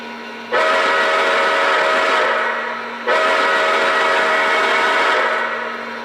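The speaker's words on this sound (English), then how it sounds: "And we'll check out the whistle." Two long, loud blasts of the Greenbrier Chessie steam locomotive whistle, close by, each holding a steady pitch for about two seconds with a short gap between.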